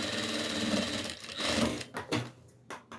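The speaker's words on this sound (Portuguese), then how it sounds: "No final da dobra, bem na beiradinha, a gente passa uma costura." Sewing machine stitching a seam right along the edge of a folded fabric strip for a doll's hat, a steady close mechanical whir that runs continuously, then breaks into short bursts near the end.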